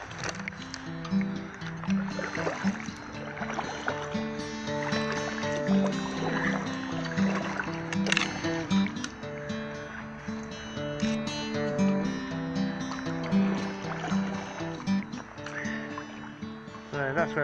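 Kayak paddling on the River Wantsum, a steady run of paddle strokes and water movement close by, with music-like tonal layers running throughout and no clear pauses.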